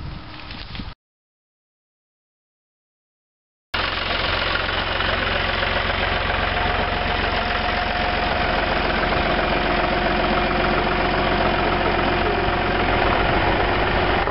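Tractor engine running during tree planting in a field, a loud, steady mid-pitched diesel rumble with knocking vibration. A brief opening burst gives way to a few seconds of silence, then the engine sound continues unbroken to the end.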